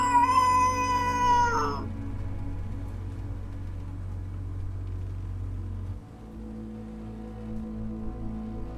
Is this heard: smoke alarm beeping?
no